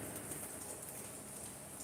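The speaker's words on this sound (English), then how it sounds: "Rainy day in Michigan." Steady rain falls on a rainy day in Michigan as a soft, even hiss, faint and continuous throughout, with no one speaking.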